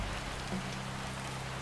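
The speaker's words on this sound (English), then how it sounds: "Everything felt dark and silent again except for the rain." Steady rain patters on a surface at night, an even, close wash of drops with no other sound rising above it.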